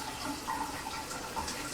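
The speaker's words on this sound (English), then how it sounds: "So now let's turn it back on, and let's see what we have for hot water." Hot water runs from a Delta shower trim valve, a steady, soft, moderately faint stream of falling water with no voices.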